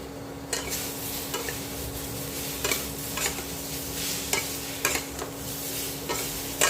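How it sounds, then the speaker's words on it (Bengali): Vegetables coated in mustard-poppy paste are stirred in a pan for a Bengali shukto, a spoon scraping in repeated strokes over a steady low sizzle, close and moderately loud, with no talking. "সবজিগুলো ভালো করে নাড়াচাড়া করে নেব"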